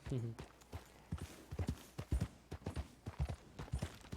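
Horse hooves clip-clop at a steady walking pace on a town street in the Red Dead Redemption 2 video game, quiet, evenly spaced thuds running throughout, with someone talking over them.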